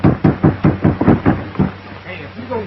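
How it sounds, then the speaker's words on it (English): A rapid series of about eight loud knocks on a door pounds close by, then stops as a voice calls out afterward. "Knock again. Doctor!"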